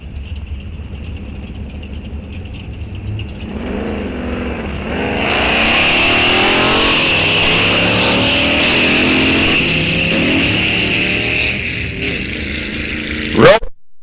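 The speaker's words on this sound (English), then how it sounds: "Art Meisenbach driving the 66 Fairlane, and Ken Spong driving the 36 Chevrolet." A 1966 Ford Fairlane and a 1936 Chevrolet launch down a drag strip at Rock Falls Raceway, engines roaring up through rising revs, loud and close, then fading with a final sharp burst near the end.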